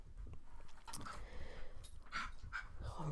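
A small dog makes faint panting, whimpering little noises while playing with a ball, quiet and close against a low background rumble.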